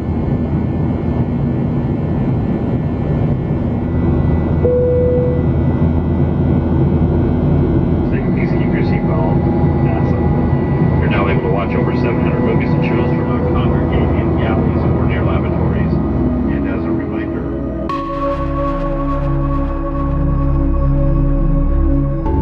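Cabin of an airliner on the Alaska milk run, flying a leg to the capital, fills with a constant roaring engine and airflow drone; faint tones and muffled background voices sit under the steady noise.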